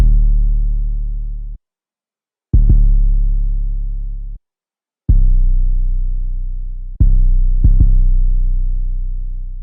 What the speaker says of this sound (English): Then lastly, just this hard hitting 808 that sounds like this.